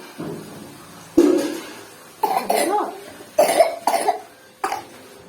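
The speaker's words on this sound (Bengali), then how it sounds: "কাশি হয়ে গেছে কাশি হয়ে গেছে" Five or six harsh, close coughs come in separate bursts, some doubled, with short quiet gaps between them and no talking.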